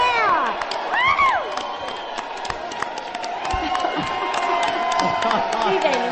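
A crowd cheers for Hulk Hogan at a wrestling event with a steady roar of shouts and whistles, voices rising and falling throughout.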